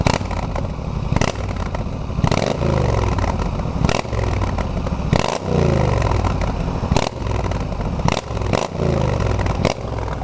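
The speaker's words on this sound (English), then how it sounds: "There's a lot of heat coming from this exhaust, but listen to this." Yamaha XVS 1300 Custom Stryker cruiser motorcycle revving outdoors near its hot exhaust, with repeated loud throttle blips rising and falling over a steady idle rumble, about seven bursts in quick succession.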